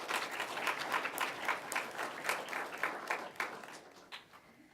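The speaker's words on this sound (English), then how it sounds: "Again, let's have a round of applause for these." Applause from the audience at a county 4-H awards program, steady clapping from a modest crowd that stays fairly even before thinning out toward the end.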